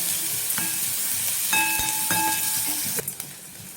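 Sliced onions sauté in a pan for spicy kuzhi paniyaram, a close, steady sizzle with spatula scrapes and metallic clinks against the pan, alone without speech, tapering off at the end.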